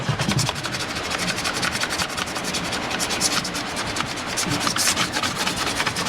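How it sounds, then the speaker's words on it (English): A polishing brush buffs wax, giving a loud, continuous rubbing whir with a rhythmic scrubbing texture that lasts throughout, with no talk. "We'll hit it with the polishing brush, and that should finish us off."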